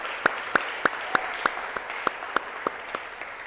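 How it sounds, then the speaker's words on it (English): A small audience at a remembrance event claps in a slow, sparse rhythm, about eleven distinct individual hand claps spaced evenly, sharp and fairly close over a quiet room. "I'm going to do a little applause again"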